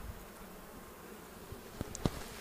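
Honey bees around an opened hive during a colony split, a faint steady insect hum under the quiet outdoor air, with a few soft close knocks near the end.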